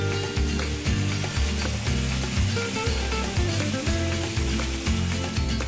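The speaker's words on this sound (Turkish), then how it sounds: "Lütfen gnocchilerimi tavaya ekliyorum." Gnocchi go into a hot frying pan with butter, setting off a steady, loud sizzle that runs through the whole stretch beneath prominent rhythmic background music.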